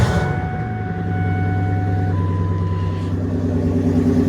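A car engine idling steadily after a cold start, having sat unstarted since the day before; a continuous low rumble with a faint high whine that stays even throughout, no voices.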